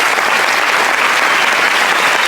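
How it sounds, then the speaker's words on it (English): A school audience at a Children's Day prize giving applauds the children with loud, dense, continuous clapping that fills the whole moment without a break. "Audience, I request you to appreciate our children with a big round of applause."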